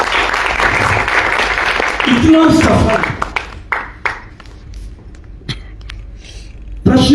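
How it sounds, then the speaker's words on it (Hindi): Audience applause fills a theatre master class, a dense wash of clapping for about three seconds, then breaking into scattered claps amid talk, with a fresh burst near the end. "जोरदार तालियां बजाइए उनके लिए।"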